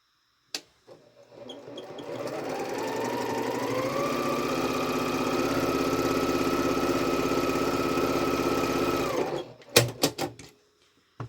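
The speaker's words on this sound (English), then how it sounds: "I'm going to sew 1/4 inch on both sides of that line" A sewing machine stitches quilt fabric a quarter inch from a drawn line for half-square triangles, starting with a click, ramping up to a steady close whirring run, then stopping with a few sharp handling clicks.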